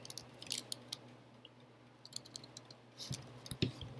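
Faint, sparse keystrokes on a computer keyboard tap out in slow irregular clusters, with a brief busier flurry near the end, over a quiet low hum.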